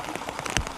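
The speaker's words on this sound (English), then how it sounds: "it's raining harder and harder" Rain falling and pattering on a surface outdoors during a knife test, a steady soft patter with one sharper drop-like hit near the end, no talk.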